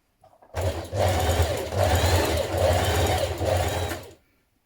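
A sewing machine runs a steady, close buzzing stretch of about three and a half seconds, top stitching sleeves with a twin needle, with slight rises and dips in speed before stopping.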